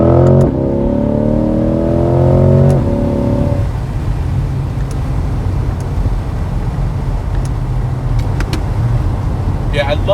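A 2022 Corvette Z51 accelerates hard on the road, its engine climbing in rising rev sweeps that step through upshifts before settling into a loud steady drone with heavy wind noise; a voice talks briefly early on.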